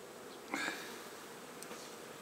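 Honey bees buzzing faintly at the hive during spring colony work, a soft steady hum with a few brief louder passes close by.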